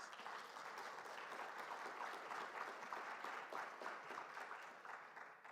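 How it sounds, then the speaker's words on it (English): Steady, full applause from the audience at a South African education event fills the whole stretch, dense and even throughout, tapering slightly near the end. "I think that deserves another big round of applause"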